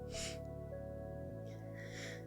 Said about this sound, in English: Sorry, need to clear my throat.